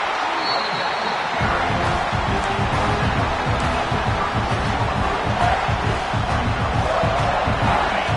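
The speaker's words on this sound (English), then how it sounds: "this crowd is fired up. Listen to this noise here." A large stadium crowd at a football game roars continuously, a dense wash of cheering and shouting that stays loud and steady throughout.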